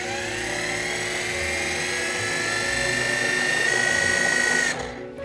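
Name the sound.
food processor blending chai into vegan pie filling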